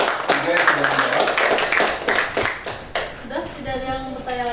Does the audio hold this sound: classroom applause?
yes